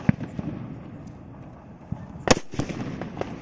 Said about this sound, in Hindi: हाइड्रो वाले सुतली बम को जला के देखते हैं सुतली बम कैसा चलता है।